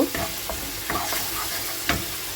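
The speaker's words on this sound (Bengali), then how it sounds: "এখন সুন্দরীকে দিয়ে দিলাম পঁচিশ গ্রাম মতো টক দই এটাকে মিক্স করে একটু কষিয়ে নেব" Eggplant mixed with about 25 grams of sour yogurt is stirred and sautéed in a pan, giving a close, steady sizzle with several spatula knocks and scrapes.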